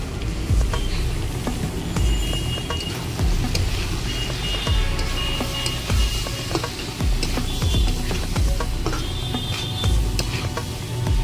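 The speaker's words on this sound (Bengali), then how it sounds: "এটা আরও 2 মিনিট মতন হালকা ফ্লেমে ভেজে নেব। 1 মিনিট নাড়িয়ে চাড়িয়ে নিয়েছি।" A curry with chili powder fries in a pan for a kohlrabi and fish dish, giving a loud, continuous sizzle broken by repeated scraping stirs, close by, with no talking.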